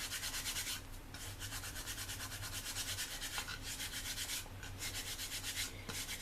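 Old glue is rubbed off a table tennis blade, a rhythmic scrubbing friction with repeated back-and-forth strokes, close and fairly quiet, with brief pauses between bursts.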